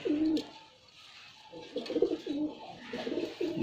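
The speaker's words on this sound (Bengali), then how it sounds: "দেখেন বুক টান কবুতর" Domestic pigeons, including a puffed-chest breed, cooing in soft repeated low burbling phrases, close by and fairly quiet, with no talk over them.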